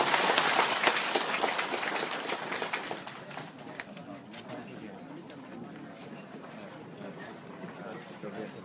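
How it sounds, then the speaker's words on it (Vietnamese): Diners at a shared meal, after grace with an archbishop, clap together in a dense, loud burst that tapers into lighter scattered claps under ongoing chatter. "Vỗ tay chúc."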